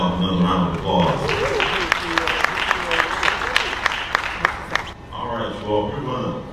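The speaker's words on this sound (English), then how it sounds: "can we give Randolph another round of applause?" Audience applauding a speaker at an annual economic development event, a sustained round of clapping mixed with crowd voices and talk, with distinct sharp claps toward the end before speech resumes.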